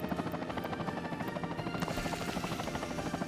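Helicopter in the Soviet-era city-building game Workers & Resources: Soviet Republic, a steady rapid rotor chop with engine whine, fairly quiet and constant throughout, with no talking.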